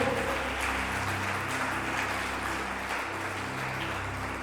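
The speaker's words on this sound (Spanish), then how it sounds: "Vamos a aplaudirle al Señor." A church congregation applauds during a service, steady dense clapping filling the room with a low hum beneath, continuing evenly for several seconds.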